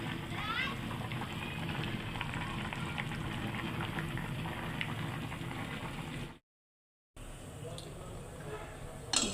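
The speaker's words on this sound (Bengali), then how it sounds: "দুপুরের রান্নাটা শেষ করে একটু চা বসাইলাম।" Tea bubbling in a pot on a home stove, a soft continuous simmering crackle with a brief dropout, a faint voice now and then over it.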